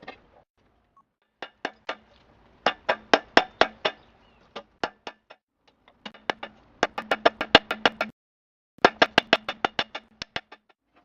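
Hot steel being drawn out on an anvil to forge a flint-and-steel striker, sharp ringing hammer blows in quick bursts of several strikes separated by short pauses, close and loud.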